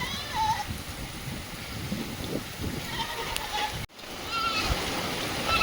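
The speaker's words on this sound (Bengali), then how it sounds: "দেখো কত জোরে বৃষ্টি হচ্ছে" Heavy rain pours down in a dense, steady hiss, with goats bleating nearby and a voice speaking under the downpour.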